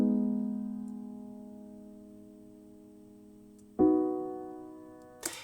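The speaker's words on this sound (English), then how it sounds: "I put it on a soft piano" Soft piano chords in a Studio One 5 R&B beat, built from guitar chords: one sustained chord rings out and slowly decays, a second chord strikes near the end, then a brief third attack follows.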